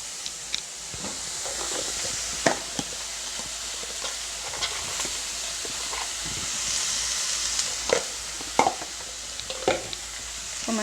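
Drumstick leaves frying with turmeric powder in a pan, stirred with a spatula: a steady soft sizzle and hiss with scattered scraping and tapping strokes, near and fairly quiet.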